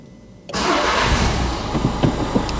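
A 2015 Renault Captur's engine cranks and catches after half a second of near quiet, then settles into a steady, close idle with a few small bumps in the running sound.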